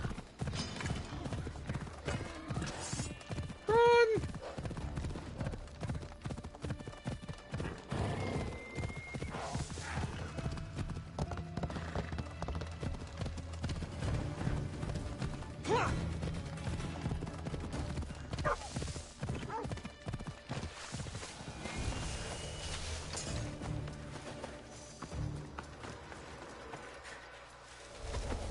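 A horse gallops in Assassin's Creed Odyssey with rapid rhythmic hoofbeats throughout, a brief whinny early on and game sounds layered over it, while a voice shouts briefly.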